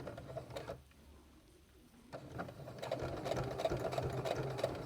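Sewing machine stitching a face mask, a close, quiet mechanical hum that pauses briefly then resumes with a steady rapid rhythm of needle strokes.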